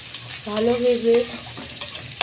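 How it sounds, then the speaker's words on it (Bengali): Prawns fry with onions in a pan, the sizzle sounding under scraping stir strokes, while a brief tonal voice-like hum rises in the middle. "এখন পেঁয়াজের সাথে চিংড়ি মাছটা"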